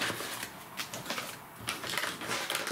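Cardstock for scrapbooking cards is cut with a quick run of close, crisp crunching clicks and rasps, steady and moderately loud.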